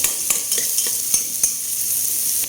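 Garlic sautés in a pan as a utensil stirs it, giving a steady sizzle with periodic scraping clicks, close and clear with no talk.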